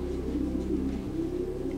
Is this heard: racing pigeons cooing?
yes